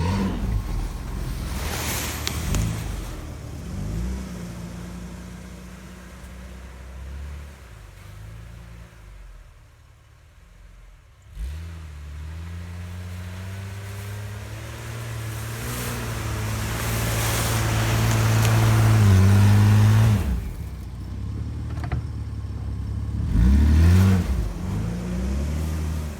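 A truck churns through snow off-road, its engine revving and easing in repeated surges as it pulls ahead and backs off, loud and close with a cab-interior feel and no talking.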